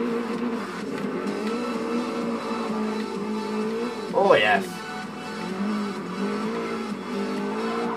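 Rally car driven off-road in Forza Horizon, its steady engine drone running throughout with a brief burst of tire or gravel noise midway, under a man's spoken reactions.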